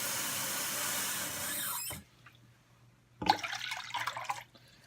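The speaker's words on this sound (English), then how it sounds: "take a measuring cup and fill it with 6 cups of water" Cold tap water is poured into a measuring cup in a kitchen, a steady rushing hiss that cuts off abruptly, then a shorter second burst of splashing pour after a brief pause.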